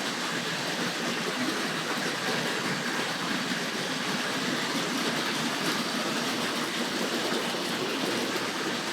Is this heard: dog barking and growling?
no